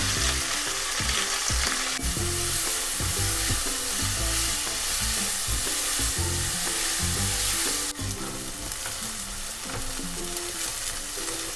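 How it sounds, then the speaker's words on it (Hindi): Chopped onions fry in oil in a pan for homestyle Mumbai pav bhaji, with a steady loud sizzle throughout and bursts of stirring and scraping, alone with no talk. "अब हम इसमें ये अनियन ऐड करेंगे।"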